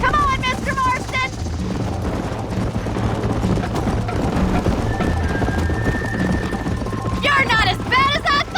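Horse hooves clip-clopping steadily in the western video game Red Dead Redemption, a continuous loud rumble with a brief tonal whine, while voices shout between the hoofbeats at the start and end.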